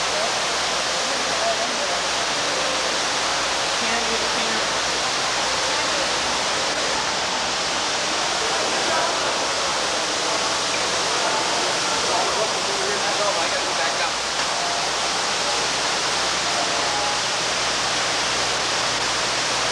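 Water from a fountain in a hotel lobby, a steady broad rushing and splashing wash that holds unchanged for the whole stretch, loud and close with no breaks.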